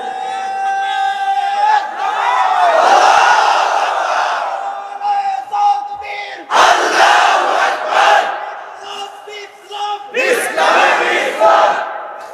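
A large crowd at a religious gathering shouts the takbir, Allahu Akbar, in loud call-and-response bursts, with a single voice leading and a massed roar answering, repeated three times with short pauses between.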